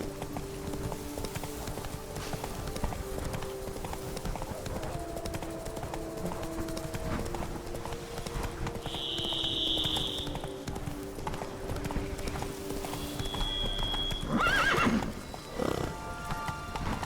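Horse hooves clip-clop steadily through a medieval fantasy world in The Witcher 3, mixed with whinnies, background music and game ambience, continuing throughout at moderate loudness.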